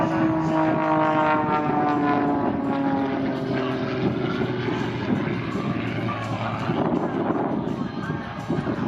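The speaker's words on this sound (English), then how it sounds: "That powerful Thunderbolt engine pulling the aircraft out of the sea accelerates from your right to your left." An Extra 300 aerobatic airplane roars past at an air show, its powerful engine loud and sustained with a droning, shifting tone as it sweeps across, and an announcer talking over it.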